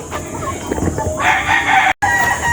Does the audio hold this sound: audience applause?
no